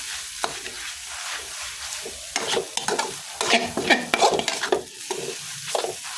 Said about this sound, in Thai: ก็ค่อยๆผัดไปแล้วก็ปรุงเครื่องไปนะครับ